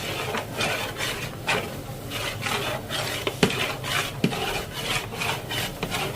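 Beef tehari being stirred continuously in a large pot, with steady scraping and rubbing strokes of a utensil against the metal, interrupted by a few sharper clanks.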